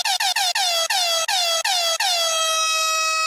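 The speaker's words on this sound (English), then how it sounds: "We got an air horn incoming" An air horn blasts in a rapid series of short honks, then holds one long, loud blaring tone.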